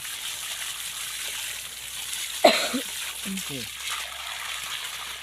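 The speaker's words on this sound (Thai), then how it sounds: "ล้างให้สะอาดไปเลยนะครับพี่ไม่ต้องกลัวนะครับ" Running water steadily hisses and splashes while soil is rinsed off the roots of an adenium (desert rose) plant during repotting, with a brief cough or throat clearing partway through.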